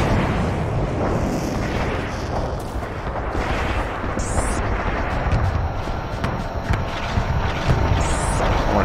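Dense rumbling airstrike explosions in the shooter game Renegade X, a loud continuous barrage of booms and crackling blasts with a couple of sharp whooshing streaks.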